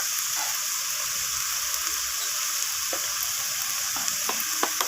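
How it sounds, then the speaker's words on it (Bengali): Spices fry in a pan for a soybean curry, with turmeric, red chili powder and cumin powder in the oil. A loud, steady sizzle runs throughout, broken by a few sharp scrapes and taps of a utensil near the end. "তো সমস্ত কিছু মশলা আবারও কষিয়ে নিচ্ছি"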